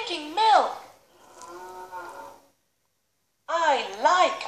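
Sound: cow mooing

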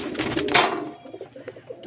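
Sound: pigeons

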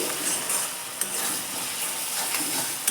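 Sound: stirring spice paste in a pan after removing the lid

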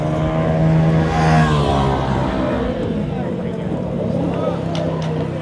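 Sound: motor boat on the Chao Phraya river

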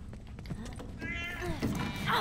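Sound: cat meowing in video game The Last of Us Remastered

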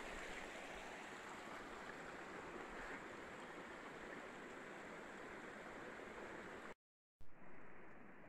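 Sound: Seneca Creek stream flowing

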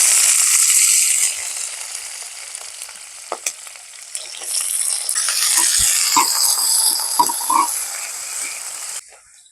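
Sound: onions and green chillies frying in oil

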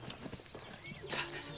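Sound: horse

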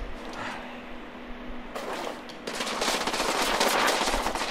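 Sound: gunfire from the video game The Order: 1886

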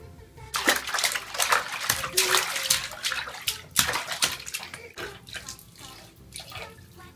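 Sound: child splashing water in bathtub

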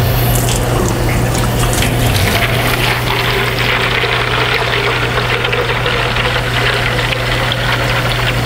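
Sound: water filling a Cryo Cuff cooler

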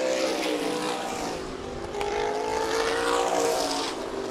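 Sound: supermodified race cars racing at Meridian Speedway

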